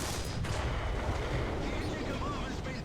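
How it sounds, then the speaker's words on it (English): Artillery fire in War Thunder, with a Panzer III N tank in battle: a dense, continuous rumble of heavy booms and blasts rolling without pause, loud and close, with a sharp crack near the start. "Artillery, fire!"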